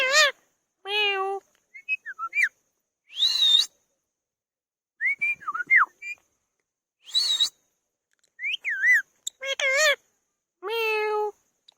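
A green parrot imitates a cat's meow, producing a string of about a dozen short, sharp, wavering meow-like calls and whistles with silent gaps between them, loud and close.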